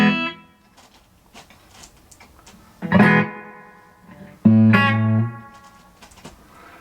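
An electric guitar played through a Danelectro Corned Beef reverb pedal: a few separate strummed chords, each ringing out with a washy reverberant tail that fades into near silence between them.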